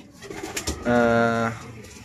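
Pigeons coo nearby, a low throaty burst rising out of a faint background murmur and fading after about half a second.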